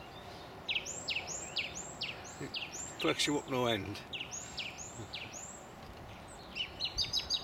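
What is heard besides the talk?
thrush singing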